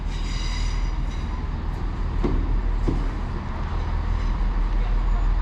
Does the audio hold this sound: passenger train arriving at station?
yes